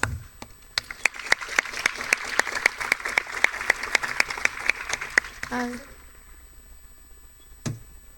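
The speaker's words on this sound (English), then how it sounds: "Let us all give her a warm round of applause" An audience at an academic talk on interdisciplinary mapping and spatial perception gives a short burst of applause, sharp rhythmic claps for about five seconds, then silence with one stray bump.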